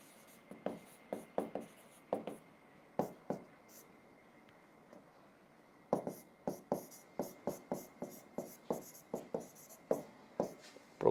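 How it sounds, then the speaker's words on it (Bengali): A pen or marker writing by hand during a chemistry lesson on fossil fuels, heard as close, distinct scratchy strokes in short bursts, a pause midway, then a steady run of quick strokes, with no talking. "বাংলাটা আমি লিখে দিচ্ছি"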